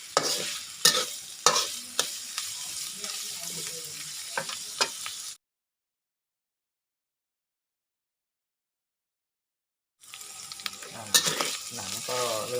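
Duck skin stir-fried in a hot pan with its fat rendering out, giving sharp crackling sizzle and scraping stirs for about five seconds, then silence before the frying resumes.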